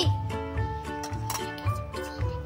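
A lid is set over a miniature cooking pot holding cheese-topped garlic bread, giving a few bright glassy clinks and rattles as it settles into place, close and clear with no talking.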